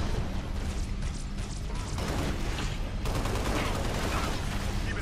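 Rifle gunfire in Halo Reach, dense rapid bursts of shots blending into a constant loud clatter of combat with no break throughout.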